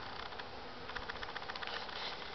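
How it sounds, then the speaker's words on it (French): Honeybees buzzing on a hive frame during a hive inspection as they build out wax foundation, a steady, dense, close swarm hum throughout with no talk. "on voit les abeilles qui sont dessus"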